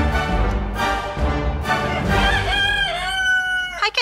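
Backyard chickens crowing and clucking in a loud, continuous stretch of overlapping fowl calls, with a rising crow-like call toward the end.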